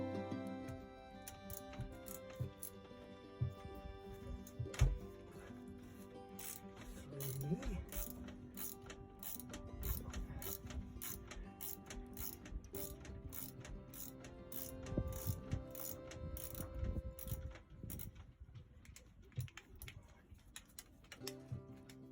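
A ratchet undoes bolts on the exhaust elbow of a Bukh boat engine, with repeated quick clicking bursts in short runs, close and fairly faint, and some voices in the background.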